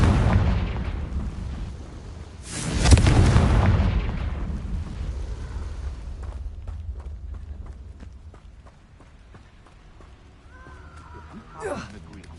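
A Confringo explosion spell in a Hogwarts video game bursts loud and close, a broad blast that tails off over a couple of seconds amid game ambience, footsteps and other effects, with a voice speaking.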